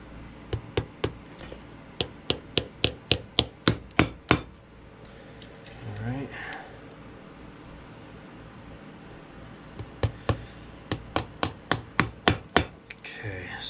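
Sharp, close hammer taps drive nails into the sole of an ostrich leather cowboy boot, coming in quick rhythmic runs of about a dozen strikes, pausing in the middle for quiet handling, then resuming.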